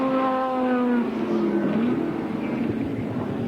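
1987 sports sedan race cars, including a Jaguar, racing at Amaroo Park: loud, close engines howling through rising and falling revs as the cars chase each other, with a commentator's voice over the top.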